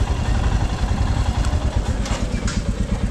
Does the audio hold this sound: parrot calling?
no